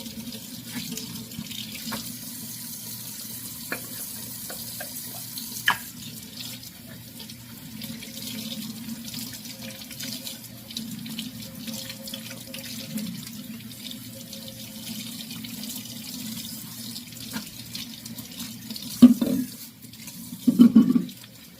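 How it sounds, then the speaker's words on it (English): Tap water runs steadily into a kitchen sink as a Blendjet portable blender bottle is rinsed out, a continuous low splashing stream with a couple of louder gushes near the end. "so I'm gonna go ahead and wash my bottle out"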